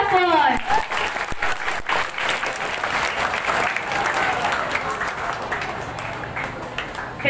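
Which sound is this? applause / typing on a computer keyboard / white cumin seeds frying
applause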